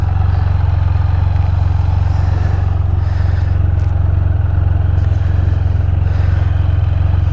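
A 2015 Can-Am Spyder F3-S with an aftermarket exhaust idles steadily nearby, a loud, constant low rumble with faint clatter and no speech over it.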